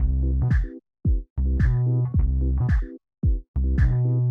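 Electronic organ chords pulsed in a tight rhythmic pattern by an LFO Tool volume effect, for a production. Each chord stabs in repeated short bursts with sharp gaps between groups.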